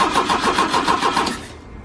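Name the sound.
Opel GT engine cranking and trying to start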